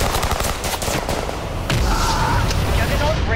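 Heavy gunfire and explosions in a Warhammer video game trailer, dense machine-gun rattle and booming blasts layered into a loud, continuous battle din, with a voice shouting over the chaos.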